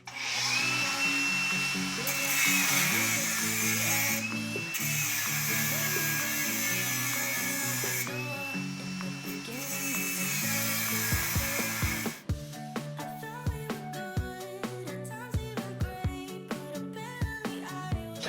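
A power tool whirs in a garage while trying to unscrew a part during a Pontiac G8 chassis swap, a steady high whine for about twelve seconds that gives way to a run of sharp clicks and knocks.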